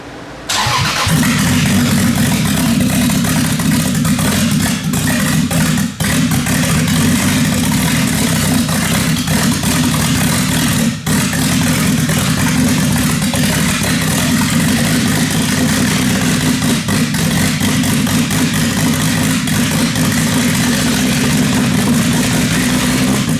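A Toyota Supra engine turns over and settles into a loud, steady idle that runs continuously and close by, with no talk over it.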